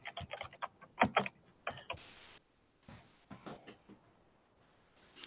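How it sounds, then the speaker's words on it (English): Keyboard typing picked up by a computer microphone: a quick run of soft, close clicks and taps in short bursts, with brief pauses between them. "I can tell it's coming through your microphone because you can hear you typing"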